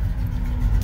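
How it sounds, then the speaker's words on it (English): A 1982 Chevrolet Blazer truck engine rumbles low and steady at idle, close by, with no other sounds. "Just gonna start it up real quick."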